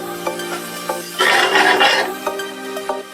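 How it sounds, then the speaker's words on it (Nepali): Momo filling, made with fresh green corn, potato and fiddlehead fern, fries in a pan and is stirred. Steady sizzling swells into a louder burst midway, with scraping stir strokes and light utensil clicks throughout. No one speaks. "त्यसको लागि हल्का अलिक रातो हुने गरी भुट्ने हो हामीले।"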